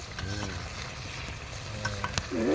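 Home-style chicken kosha sizzles in a pan over a wood fire in a mustard field, with a spoon stirring and scraping through the meat in short bursts over a steady frying hiss.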